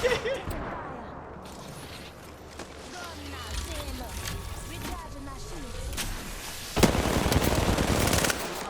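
Rapid bursts of automatic gunfire crackle through a busy Apex Legends soundscape, with an explosion-like burst near the end, under excited voices talking.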